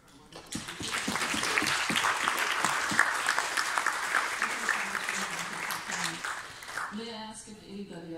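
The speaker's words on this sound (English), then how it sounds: "may I ask for a round of applause for our wonderful speaker?" A panel audience applauds a departing speaker at an interfaith Q&A, a dense, sustained wash of clapping lasting several seconds before fading as a voice resumes speaking.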